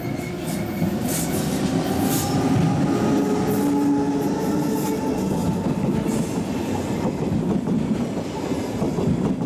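A train rumbles steadily with rhythmic clickety-clack of wheels on rails and faint squealing, loud and continuous, as it rolls into Zug station, Switzerland.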